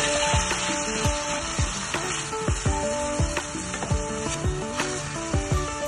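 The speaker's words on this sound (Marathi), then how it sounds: "टोमॅटो मी चांगला भाजून घेणार आहे" Tomato roasting in a hot pan for a matar paneer gravy, with a constant loud sizzle broken by frequent tapping and scraping of a utensil stirring against the pan, close up and without talk.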